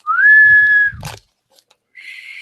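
A person trying to whistle, one rising shaky tone that holds briefly, then a crunchy breathy burst and a weak airy second attempt, close and alone.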